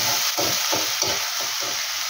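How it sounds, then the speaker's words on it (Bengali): Ginger-garlic paste sizzling in hot oil with whole cumin seeds, a loud continuous frying hiss broken by several rhythmic scrapes of a spoon stirring the pan, close up and without speech. "যে ভাজা হয়ে যাবে আমি আদা রসুনের পেস্টটা দিয়ে নেব, কষিয়ে নিয়ে একটু ভেজে নেব।"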